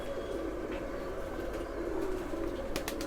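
A Lal Pari Lahori pigeon coos in low, throaty repeated tones close by, with a steady hum underneath and a few brief sharp sounds near the end.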